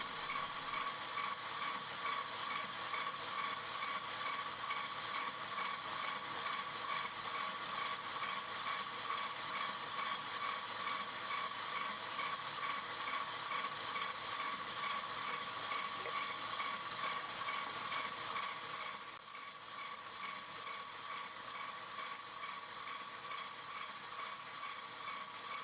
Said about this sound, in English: adding the oil now gradually and keep on mixing